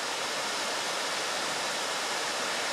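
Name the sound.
waterfall on Keshequa Creek in Sonyea Forest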